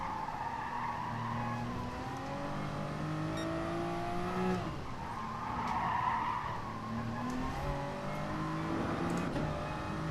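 Car tyres skid and squeal under braking into a chicane in GT Sport on the Nordschleife, with engine notes rising and falling steadily underneath throughout, close and continuous.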